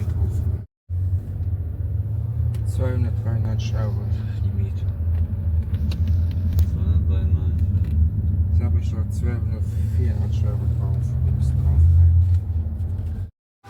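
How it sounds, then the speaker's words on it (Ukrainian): Steady low engine rumble and road noise inside a moving car, heard from the cabin throughout, with people talking over it. "Зараз ми їдемо скупитися у Кауфленд, а, по... а потім до мами Франка."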